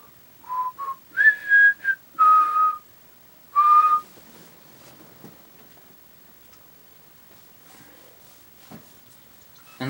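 A person whistles a short tune of several bright, sliding notes over the first four seconds, followed by quiet with faint ticks and small background noises.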